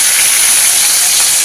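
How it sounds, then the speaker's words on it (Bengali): Potato pieces dropped into hot oil give a loud, dense hiss of sizzling and spattering, constant through the short moment with no voice over it. "জোরে ছেড়েছে, একদম তেল ছিটকিয়ে গেছে"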